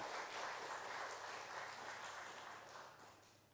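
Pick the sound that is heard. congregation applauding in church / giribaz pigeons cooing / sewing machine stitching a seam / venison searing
congregation applauding in church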